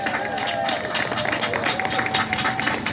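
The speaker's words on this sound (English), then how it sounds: "How about another round of applause for these amazing doctors and researchers?" An audience at the 35th annual Jimmy Fund event applauds doctors and researchers, sustained dense clapping from a large crowd with a voice carrying over the top.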